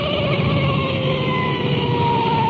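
A steady, loud police car siren wails continuously with a low engine rumble underneath, close by and unbroken, from a 1954 recording.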